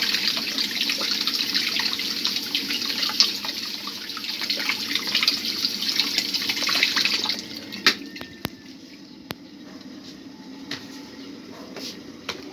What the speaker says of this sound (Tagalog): Hugasan muna natin mga mami bago natin ilagay sa tasa.